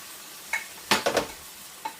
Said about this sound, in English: we're going to add in the tomatoes and the Rotels